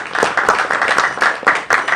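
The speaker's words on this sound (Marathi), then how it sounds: "एकदा जोरात टाळ्या वाजवा" An audience at a film poster launch event applauds a guest with a burst of quick, uneven clapping from many hands, loud and close, continuing throughout.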